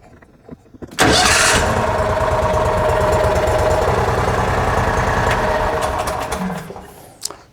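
A 2009–2015 Club Car XRT 950 utility vehicle engine cranks and catches, then settles into a steady, close, loud idle with a fast regular pulse for several seconds before shutting off.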